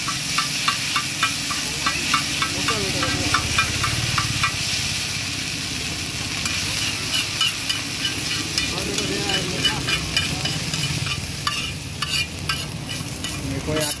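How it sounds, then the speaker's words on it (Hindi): Chowmein is tossed and stir-fried in a wok at a street stall in Raipur, with a continuous close sizzle and hiss broken by rhythmic clanking scrapes of the spatula, while people talk faintly nearby. "अब इसको मिक्स कर देंगे लगता है, मुझे तो यहाँ पर मिक्स किया जा रहा है।"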